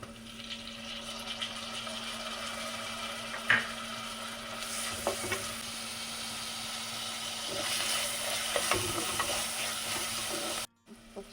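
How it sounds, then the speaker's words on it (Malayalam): Tomatoes go into a frying pan for a Kanhangad-style mackerel curry, giving a soft, steady sizzle with occasional clinks and stirring, fairly quiet and without talk. "നമുക്ക് ഇതിലേക്ക് തക്കാളി ഇട്ട് കൊടുക്കാം."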